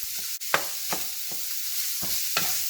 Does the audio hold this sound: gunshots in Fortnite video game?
no